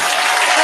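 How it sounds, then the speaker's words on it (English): A short, bright burst of canned applause from a clapping sound-effect button, loud and steady for under a second. "I just pressed the clapping button"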